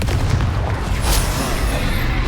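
Booming spell blasts from Confringo in Hogwarts Legacy on Xbox Series X, a dense, loud burst of rumbling explosion noise that fills the whole clip with continuous low-end thunder and crackle.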